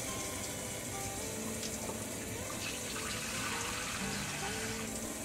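Water streams steadily into a mixing bowl, about half a cup, a continuous soft splashing pour that stays even in level throughout.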